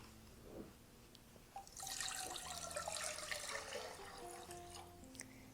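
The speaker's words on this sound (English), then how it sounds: "we're going to go ahead and add the water and salt to a medium saucepan." Water runs into a medium saucepan for cooking grits, a steady, moderately quiet pour that starts after a brief drip and continues to the end.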